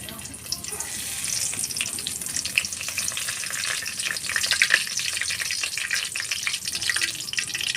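Chopped onion, garlic, ginger paste and bay leaves sizzle steadily in hot oil in a pan for a mutton curry, a continuous close frying hiss with scattered crackles and stirring scrapes throughout.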